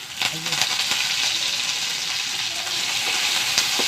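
Curry leaves and small shallots frying in hot oil for a Kerala lunch dish, a steady close crackling sizzle with occasional stirring clinks throughout.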